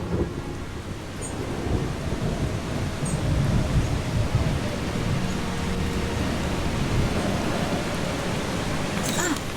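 Steady rain falls in the video game Eastshade as a constant, even hiss that lasts throughout, with no voices.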